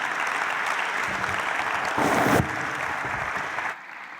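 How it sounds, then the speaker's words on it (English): Sustained applause from a conference audience at the Global Manufacturing and Industrialisation Summit fills the hall, a dense steady wash that swells briefly near the middle before dropping off sharply toward the end. "Let's give them a round of applause."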